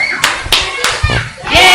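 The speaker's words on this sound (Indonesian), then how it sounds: "Tepuk tangan Yesus." Children clapping at a Christmas Sunday school service in church, a few sharp, separate claps spaced across a short span, with voices mixed in.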